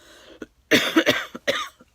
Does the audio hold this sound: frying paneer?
no